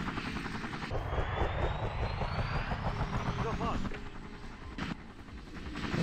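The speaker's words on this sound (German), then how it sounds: "Deswegen den Heli jetzt erstmal in Bereitschaft stellen." A game helicopter from Emergency 3 whirs steadily with a loud engine and rotor drone that dips near the end, while someone talks over it.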